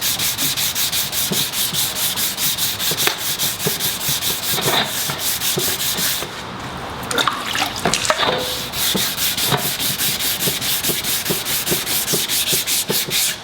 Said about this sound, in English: I'm gonna wet sand, okay?